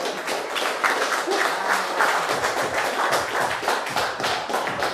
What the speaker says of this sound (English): Big round of applause for these young men.